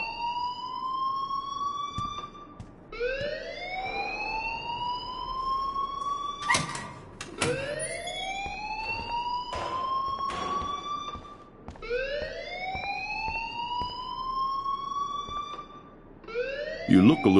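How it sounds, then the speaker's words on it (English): An alarm rings in the Life is Strange video game as a loud, continuous rising and falling wail that repeats steadily in long sweeping cycles, with a few sharp clicks and a voice briefly cutting in near the end. "please turn off that alarm since that's your job"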